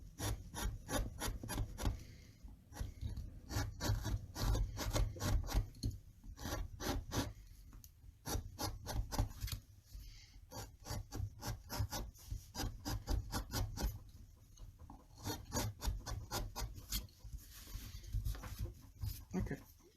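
Hand carving tool rasping and scraping through wood on a dragon carving, a steady run of close, rhythmic rubbing strokes with brief pauses, loud and continuous throughout.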